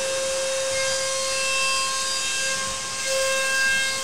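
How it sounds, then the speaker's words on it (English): A DATRON CNC machine skims a vacuum-held part with a 20 mm step cutter, giving a steady high whine with constant tonal hum and a faint grinding hiss throughout. "We just skim the part off with a 20 millimeter step cutter."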